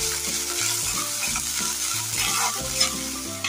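Chopped onion sizzling and frying steadily in a pan, with repeated stirring scrapes over a continuous close hiss; no voices.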